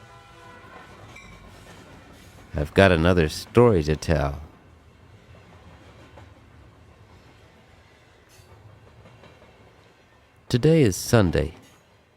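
A train rolls along the rails in two loud bursts of rhythmic clatter with whistle-like tones, separated by someone speaking over a faint rumble.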